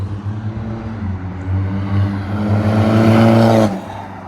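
BMW 320d E90 LCI diesel sedan with a stage 1 tune and full stainless exhaust, revving hard with a deep, rising engine drone that builds for several seconds and cuts off abruptly.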